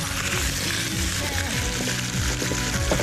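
Wine sizzling in a hot frying pan while cooking chicken pastitsada, a continuous loud frying hiss with occasional stirring clinks close by.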